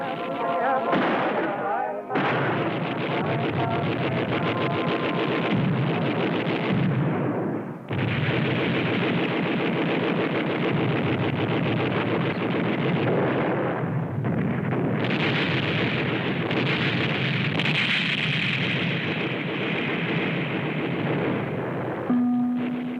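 Artillery fire and explosions thunder in a Spanish Civil War battle, with heavy booms and rumbling blasts repeating densely over a sustained, loud roar that runs almost without a break.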